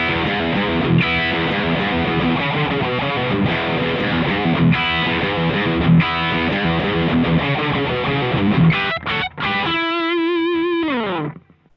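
A heavily distorted electric guitar played through a classic distortion pedal with gain at about 4 plays a thick, sustained riff, loud and close, ending on a ringing chord that cuts off abruptly.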